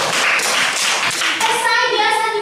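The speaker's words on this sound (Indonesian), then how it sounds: "Dan tepuk tangan dulu" Hands clapping in a classroom lesson, brisk rhythmic clapping for about a second and a half that gives way to a sustained tone, fairly loud and close.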